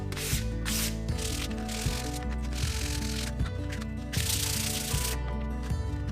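Quick back-and-forth swipes of sandpaper taking the sharp edge and corner off a wooden shaker-style door, a steady run of close rasping strokes with no talk.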